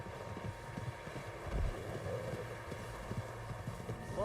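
Several horses clip-clop along a trail in the video game Red Dead Redemption 2, a soft, steady patter of hooves under a low ambient hum and faint wind.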